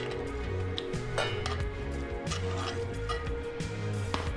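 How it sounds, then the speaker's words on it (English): Bacon onion jam scraped from a pan into a bowl, with close utensil scrapes and light clinks of metal on cookware against a steady low kitchen hum, no talking. "What we're gonna do is we're gonna transfer this to a bowl."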